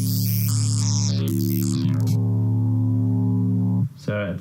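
A steady electronic synthesizer tone drones with buzzy harmonics, its timbre shifting as the waveform changes, then cuts off into brief warbling sounds.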